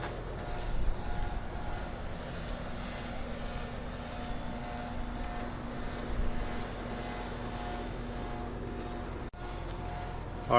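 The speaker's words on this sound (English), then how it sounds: "My AC units are right here, and they're a little noisy" Noisy air conditioning units running close by give a steady, droning mechanical hum with a faint tonal whine, holding level throughout with slight swells and one brief dropout near the end.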